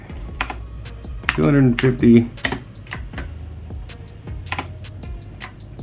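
One hand taps out quick, uneven keystrokes on a computer keyboard while naming a new volume during setup of a Samsung 860 Evo M.2 SSD. A voice talks over the close, crisp clicking.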